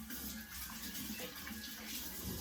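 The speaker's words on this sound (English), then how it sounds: "let me just wash my hands" A kitchen tap runs as hands are washed, a faint steady hiss of splashing water lasting a couple of seconds with no talking.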